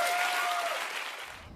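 A studio audience claps in a dense, steady wash of applause that fades slightly toward the end, with no voices over it.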